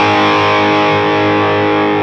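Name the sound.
electric guitar with bridge pickup and distortion, song intro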